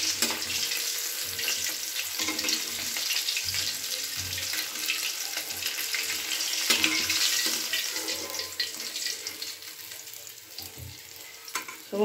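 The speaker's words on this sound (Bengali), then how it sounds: "পুরো মাছগুলো ভেজে নিয়ে তারপরে আবার তোমাদেরকে দেখাচ্ছি।" Khoira fish frying in hot oil in a kitchen pan, a continuous close hiss and crackle with occasional clatter and water-like washes, moderately loud and steady throughout with no speech.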